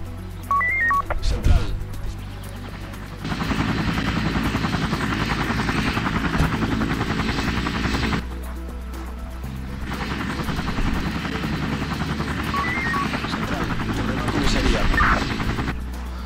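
A helicopter in the video game Emergency 4 with a Barcelona mod drones steadily with a whirring rotor, dropping out briefly midway before returning, with faint game effects in the background.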